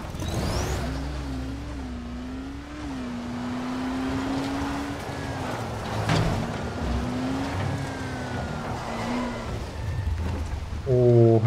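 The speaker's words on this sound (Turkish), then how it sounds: "Oo yağmur da yağıyor." Steady rain hisses in the zombie video game Dying Light, under a droning vehicle engine whose pitch rises and falls. The scene is continuous and moderately loud, with no talking.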